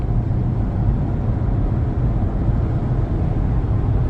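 An electric truck drives down a cold road, giving a steady, even low rumble of road and tire noise that holds at one level throughout, with no voices.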